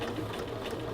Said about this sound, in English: as I'm edge stitching it into place